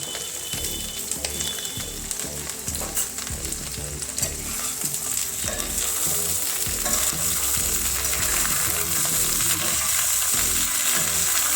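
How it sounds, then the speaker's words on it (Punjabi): Peas, capsicum, okra and onion frying together in a pan make a loud, close sizzle with frequent scraping stirs, busier at first and settling into steadier frying, with no speech. "5 ਕਿ ਮਿੰਟ ਵਾਸਤੇ ਸਬਜ਼ੀਆਂ ਨੂੰ ਆਪਾਂ ਫਰਾਈ ਕਰ ਲਵਾਂਗੇ"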